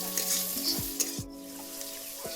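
Chopped carrots frying in a pan, a steady broadband sizzle with intermittent clinks and scrapes of a utensil stirring against the pan, close and moderately loud with no talking.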